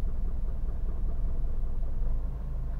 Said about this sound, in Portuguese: vamos agora verificar aqui a rotação do motor, que vai baixar